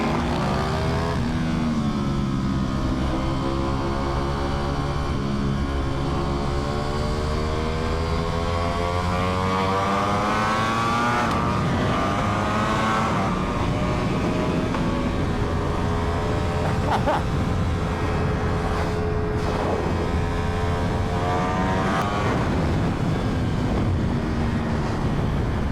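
Ducati V4R motorcycle engine revving steadily while riding, its harmonic tone sweeping up and down through gear changes, close and loud under constant wind rush.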